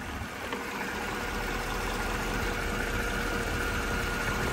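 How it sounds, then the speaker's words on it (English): A Mercedes-Benz CLS 550 AMG engine idling while warming up, a steady low mechanical hum with faint vibration, continuous and fairly close with no talking. "Does that motor sound loud?"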